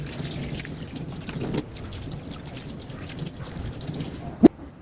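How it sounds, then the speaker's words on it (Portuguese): Running water rinses a vinyl LP in a steady, soft trickling wash, close by. A single sharp knock stands out near the end. "nós vamos enxaguar. Eu gosto de usar um pouco de excesso de água."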